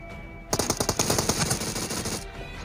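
Gunfire from a shooting video game: a rapid burst of shots, loud and close, rattling for nearly two seconds after a quiet start and fading away afterward, with no talking.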